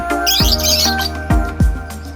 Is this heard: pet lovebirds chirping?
yes